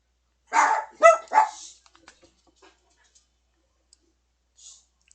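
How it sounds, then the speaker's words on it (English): Dogs barking in the Wurm Unlimited game, three quick close barks in a burst followed by faint clicks and a soft distant yelp, with near silence otherwise. "Dogs think they hear somebody."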